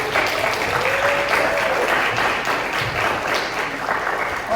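Loud, steady applause from a church congregation during a Sunday service, a dense wash of clapping from many hands with faint voices mixed in.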